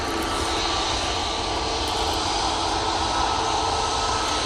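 EasyJet aircraft departing Manchester Airport for Geneva in heavy rain: an intense, continuous jet engine roar filling the whole span, close and loud, with no talking.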